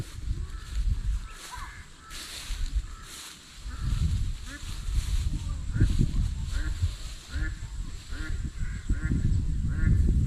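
Ducks forage in a flooded rice field, giving a busy, continuous chorus of nasal quacks and honks, some close and some farther off, over a low, steady outdoor rumble.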